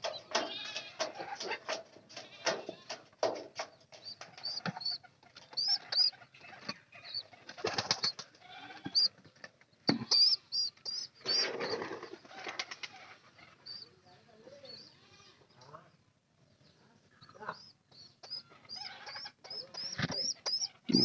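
Pigeons kept by a keeper, some with eye problems, make soft, irregular cooing and rustling sounds, scattered calls and low purrs close by, with brief quiet gaps between bursts.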